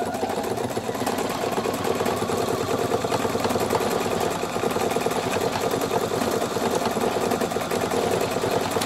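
A Pfaff Performance 5.0 sewing machine stitches a random, loose floral pattern, giving a steady, close, continuous mechanical whir with a rapid needle rhythm that runs unbroken and alone.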